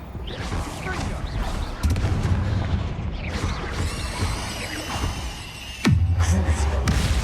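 Repeated spell blasts from Confringo fire in Hogwarts Legacy, a busy run of booms and crashes over continuous battle noise, with a sharp loud impact near the end followed by a deep rumble.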